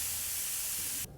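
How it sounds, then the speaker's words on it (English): Venison burger patties of about 20% fat sear loudly in a hot pan, a dense steady sizzle filling the whole moment before cutting off sharply near the end. "Oh, that sizzle."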